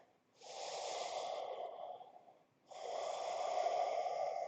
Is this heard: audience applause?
no